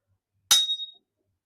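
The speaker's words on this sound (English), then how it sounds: "it pinged and the rivet's there" A rivet snaps into place while a curtain rail is installed in a bay window, a single short, sharp metallic ping that rings briefly in an otherwise quiet room.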